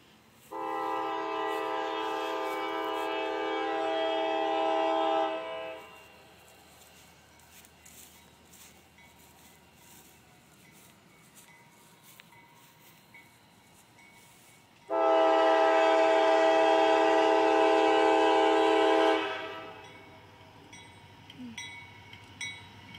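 A CSX freight train passing a crossing in Muncie, Indiana, sounds two long, loud horn blasts about ten seconds apart, with a quieter rumble of the train rolling by between and after them.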